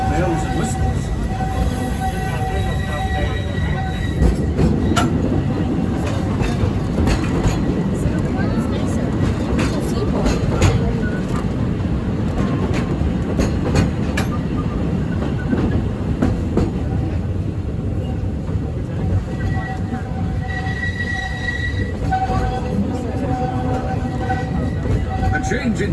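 A Walt Disney World steam train rolls steadily along its railroad, a continuous close rumble and rattle of wheels and cars with faint whistle tones, while a voice talks over it.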